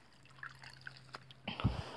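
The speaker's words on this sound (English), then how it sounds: "Get the washcloth wet." Water dripping and trickling as a washcloth is wetted for a bath, a few faint scattered drips followed by a short louder splash of pouring water, close and quiet.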